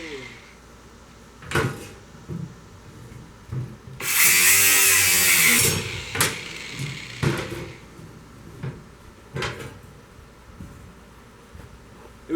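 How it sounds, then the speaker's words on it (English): An angle grinder cuts briefly through a metal piece in one loud, harsh, high-pitched burst of about two seconds, with tool clunks and handling knocks before and after. "Grinder it is."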